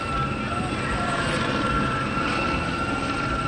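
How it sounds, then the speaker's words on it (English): A steady mechanical drone of a helicopter flying overhead during a protest in Austin, Texas, loud and continuous with a whining tone, no talking. "We got the helicopter flying above us."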